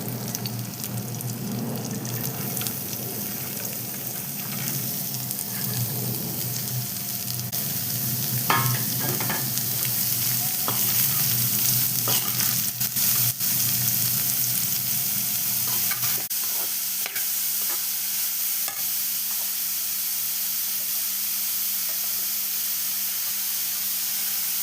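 Continuous sizzling of finely chopped beetroot stir-frying in hot oil, with occasional stirring scrapes, close and steady throughout.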